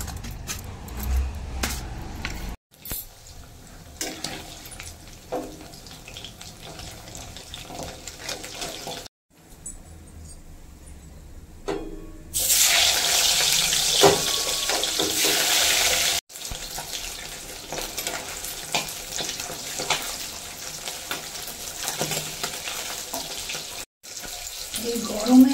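Cut potatoes and pointed gourd rinsed under a running tap in a hot asbestos-roofed kitchen: a loud rush of water into a sink midway, framed by clattering of vegetables and utensils, with short silent gaps.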